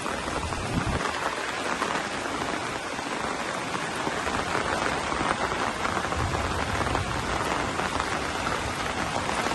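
Heavy rain pours down in Maha Sarakham, Thailand, during a brief flood-causing downpour: a dense, constant hiss and roar of drops on surfaces, close and loud throughout with no voices.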